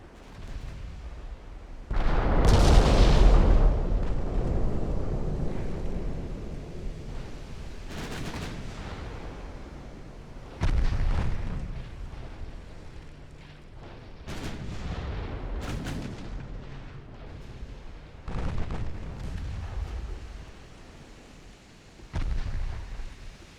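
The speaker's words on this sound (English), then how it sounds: "I was aiming the main guns at the armored cruiser behind it." Heavy naval gunfire in a warship combat game: the main guns fire at an armored cruiser in repeated loud, booming salvos, each followed by rumbling decay, with several thumping volleys spread across the stretch.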